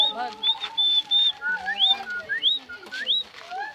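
A man imitates the call of an inyombya bird with a series of short, high whistled chirps and rising slides. The calls come in quick, uneven bursts, loud and close, with breathy voice sounds between them.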